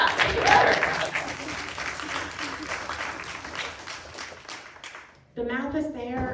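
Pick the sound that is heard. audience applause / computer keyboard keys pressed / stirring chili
audience applause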